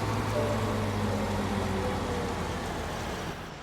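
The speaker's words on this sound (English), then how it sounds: "It's actually the harvester." A steady, low mechanical drone of a harvester engine in Farming Simulator 19 running continuously, with a broad rumbling hum that fades slightly near the end.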